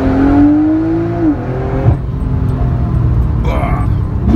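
Sports car revving at a quarter-mile tuning show in Abu Dhabi, engine pitch climbing then dropping off, with a loud roar under excited nearby talk.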